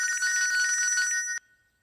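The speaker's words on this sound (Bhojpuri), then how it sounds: "भैया के फोन आवता माई" A telephone rings with an incoming call in a Bhojpuri family drama, a steady repeated electronic ringtone sounding loud and close for over a second before cutting off abruptly, with no talk over it.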